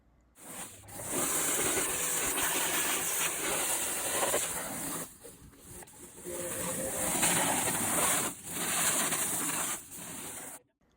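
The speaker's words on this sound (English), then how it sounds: "Just grab your garden hose and your garden nozzle and just try to get as much dirt off as possible." A garden hose with a spray nozzle blasts dirt off a 2003 Suzuki RM125 dirt bike, a loud, close, steady hiss of water that drops out briefly several times as the spray moves.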